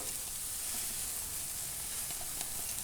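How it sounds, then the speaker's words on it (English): Bratwurst sizzles steadily in a very hot skillet on a Weber Spirit gas grill, a constant close frying hiss with faint scrapes of stirring. "I want to give this a stir because this skillet was really hot."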